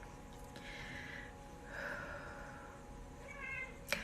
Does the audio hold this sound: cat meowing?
yes